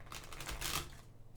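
Tarot cards being shuffled by hand for a pick-a-card reading, a soft run of close papery riffles and flicks building briefly then easing off.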